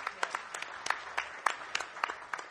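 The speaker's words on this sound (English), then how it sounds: "Clap your hands for Needles one time." At the A3C 2012 event, an audience claps for producer Needles: sparse, fairly faint individual hand claps pop out in a loose, steady sequence over a quiet room background.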